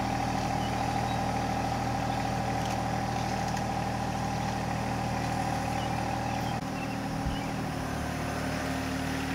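A John Deere 1025R compact tractor cultivating a corn field, its engine droning steadily and close throughout, with a slight change in tone near the end.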